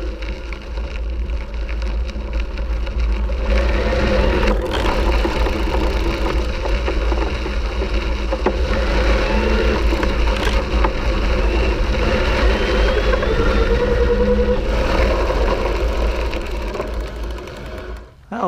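Bafang MAX Drive mid-drive electric bike motor on a 48 volt pack at the fifth assist level, pulling under power with a steady, loud mechanical whine that runs unbroken for nearly twenty seconds.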